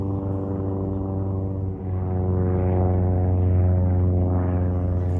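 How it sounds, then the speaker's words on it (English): A propeller airplane drones past overhead, a steady loud buzzing engine hum that swells slightly as it passes, heard alone outdoors. "the airplane is coming by to help me"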